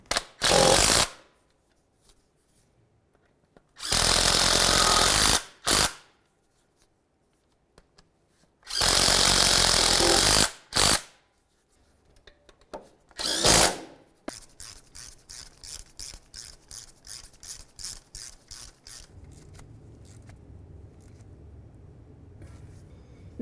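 A power tool on 10mm bolts during a 2009-2020 Dodge Journey water pump replacement, with three loud sustained bursts and a shorter one, followed by quieter rapid rattling and clicking work sounds.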